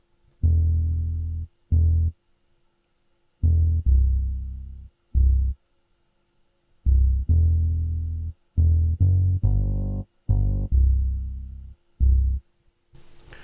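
A deep upright bass sample plays a line of plucked low notes, some short and some sustained, with brief gaps between phrases, clear and alone.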